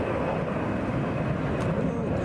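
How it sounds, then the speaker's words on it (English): A Delta Airlines Airbus A321 departs Hartsfield-Jackson airport, its engines a steady, low, rumbling roar with a faint whine heard from a distance, continuous throughout the brief stretch. "Heading out, Delta Airlines Flight 2432 going to New Orleans. And an Airbus A321."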